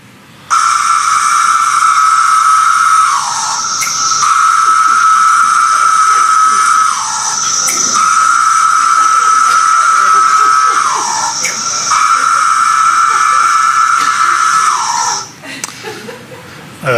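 Pharaoh periodical cicada chorus near Knoxville, a loud, continuous droning buzz that rises into long sustained phrases and dips with a downward slur every few seconds, repeating steadily.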